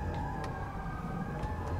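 An ambulance siren in the Jak and Daxter video game wails steadily and fairly faint within a dense, noisy game soundscape, with no talk over it.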